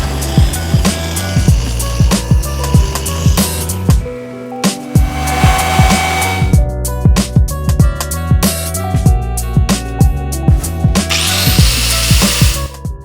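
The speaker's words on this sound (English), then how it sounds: "I was able to drill through it with a multi-step drill bit." A power drill with a multi-step bit grinds through heated steel in repeated short bursts, loud and close, with brief pauses between pushes and a rough, scraping bite.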